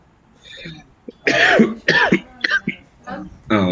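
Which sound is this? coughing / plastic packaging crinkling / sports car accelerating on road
coughing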